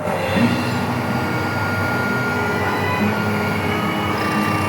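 A DF64V coffee grinder runs close and loud with its burrs rubbing while being set to zero, a constant harsh mechanical whir with a scraping, tonal edge.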